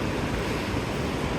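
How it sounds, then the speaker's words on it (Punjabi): Steady, continuous rushing of flowing water, a dense even hiss with no pauses, fairly close. "ਤੇ ਪਾਣੀ ਦੀ ਆਵਾਜ਼"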